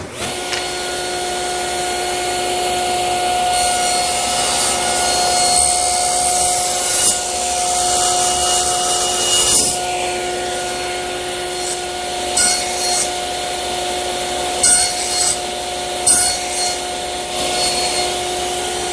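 A saw makes the final cuts forming haunched wooden tenons in a workshop, a steady loud motor drone with a faint high whine, broken by intermittent rasping bursts and brief clicks as the wood is fed through.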